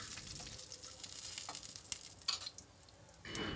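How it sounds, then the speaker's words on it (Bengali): Finely chopped dried chillies frying in oil in a pan, a faint steady hiss of sizzling with a few small crackles and light stirring scrapes. "এখন এগুলোকে সামান্য একটু ভাজবো।"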